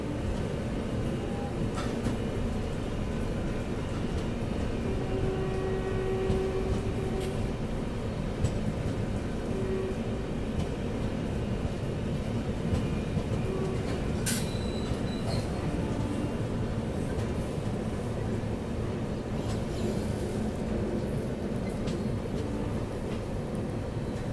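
An express train rumbles steadily as it picks up speed after crossing onto another track, a continuous heavy rail roar with faint wheel squeal and occasional clicks, with no voices.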